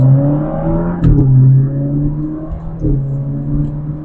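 An Alfa Romeo Giulia with a Squadra ECU tune accelerates on a road, its engine droning loudly from inside the cabin, with a sharp blip and pitch drop as it downshifts, then building again.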